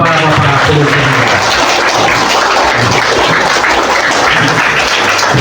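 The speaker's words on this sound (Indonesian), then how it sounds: "Kita tepuk tangan untuk bapak-bapak pengusaha." Schoolchildren at a primary school in Sikka applaud businessmen during a traffic-discipline session, a loud, dense, continuous clatter of many small hands that fills the whole stretch.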